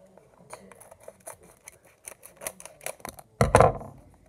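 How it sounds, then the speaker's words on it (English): Scissors cutting into crinkly snack packaging from a Russian snack crate, a steady series of small close snips and rustles followed by a louder burst of plastic crinkling as the pack is torn open; no voices. "Again, we need scissors."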